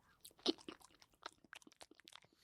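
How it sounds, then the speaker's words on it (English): A banana-flavored Hawaiian snack is chewed close to the mic, giving quiet, irregular crunches and bites in a steady run, with no talking. "Here's the ASMR of chewing."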